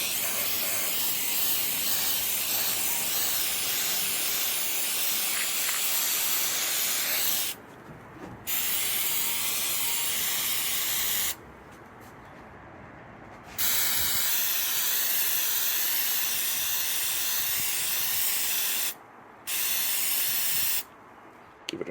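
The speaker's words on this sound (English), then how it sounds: "This is Rust-Oleum aircraft remover, and the idea is I can spray it on here" Aerosol bursts of Rust-Oleum aircraft remover hiss loudly from a spray can onto a vintage Australian drive-in speaker, as several long sprays separated by brief gaps.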